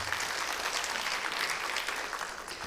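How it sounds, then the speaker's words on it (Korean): An audience at a residents' briefing on an apartment reconstruction project applauds, a dense, steady wash of clapping that holds throughout. "다시 한번 큰 박수 부탁드립니다"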